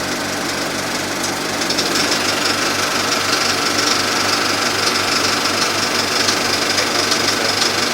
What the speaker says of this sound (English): Now I'm going to start machine number 2